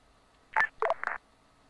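Telephone dialing tones in Arma III, three short electronic keypad beeps in quick succession, clear and moderately loud against near silence.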